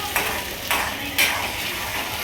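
Chopped onion and tomato sizzle in a frying pan while a spoon stirs them, striking the pan three times in an even rhythm over the steady frying hiss.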